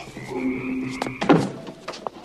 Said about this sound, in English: Shut that damn door.